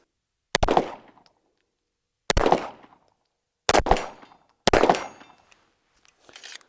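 Four sharp gunshots from a brand-new Staccato pistol crack out at uneven intervals, each loud and close with a short ringing decay, and a fifth shot begins just as the sound ends.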